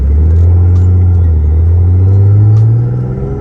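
A turbocharged BMW E36 with an automatic transmission pulling away from a stop, a loud deep engine rumble close by that rises gradually in pitch as it accelerates.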